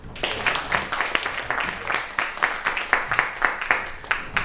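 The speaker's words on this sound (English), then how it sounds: "let's give a big round of applause" Toastmasters club members give a round of applause for the Toastmaster of the day, a steady run of rhythmic claps, moderately loud and fairly close, lasting several seconds.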